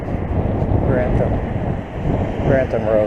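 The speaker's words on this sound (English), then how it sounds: "heading north into a brisk, chilly north wind" A brisk, chilly north wind buffets the microphone with a loud, steady rumble during a roadside walk, and someone talks over it.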